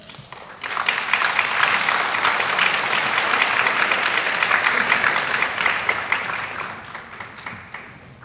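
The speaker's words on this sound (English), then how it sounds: "Let's welcome them with big applause." Audience gives a big round of applause welcoming presenters at a Japanese and Philippine university joint event, dense clapping swelling quickly and holding steady for several seconds before tapering off.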